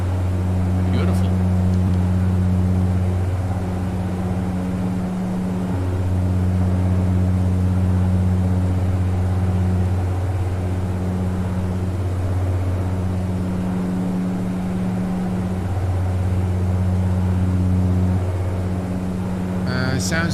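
Saab 340A turboprop cabin drone in the X-Plane 11 flight simulator: a steady, loud low-pitched engine hum with strong harmonic tones, holding continuously for the full stretch with slight swells and no talk.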